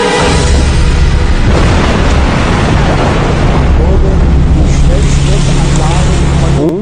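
A massive torpedo explosion against a ship's hull, throwing up a tall column of water, heard as a loud, continuous roaring rumble of churning water and blast noise that fills the whole stretch without a break.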